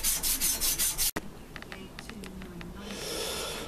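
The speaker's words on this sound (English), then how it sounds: "that's them rubbed down and de-rusted and de-painted and de-rusted" Car front coil springs being rubbed down to strip rust and paint give a loud, rhythmic scraping at first, then a sharp knock, followed by fainter scattered scrapes and taps.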